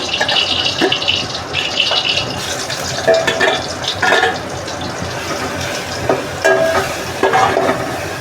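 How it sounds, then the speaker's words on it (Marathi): Garlic dropped into hot ghee with ground cumin and coconut paste, sizzling and crackling steadily with occasional stirring scrapes and brief spurts of louder frying, close up with no talk. "आता आपण त्याच्यात लसूण घालून घेऊ"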